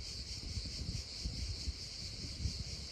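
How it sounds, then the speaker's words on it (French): Cicadas sing in a dense, continuous high-pitched chorus at Massif du Cap Garonne, steady and fairly close, with light wind rumble underneath and no voices. "venir connecter au chant des cigales"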